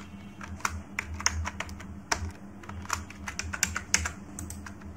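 Fingers type a new password on a computer keyboard in quick, irregular bursts of crisp key clicks, close up, with no talking.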